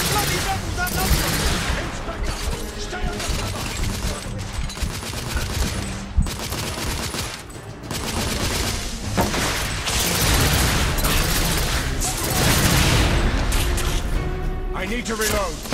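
M86 Thermite Rifle firing during a firefight in The Order 1886, loud sustained gunfire and booms layered with shouting voices and battle noise throughout.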